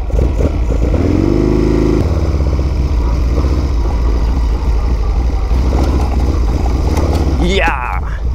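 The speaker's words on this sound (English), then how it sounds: "it's been a long time since I've seen an 86 Sportster that wasn't just leaking everything. It also fires up very," A 1986 Harley-Davidson Sportster engine runs loud and close, a deep lumpy idle with a brief rev near the start and a rising rev near the end.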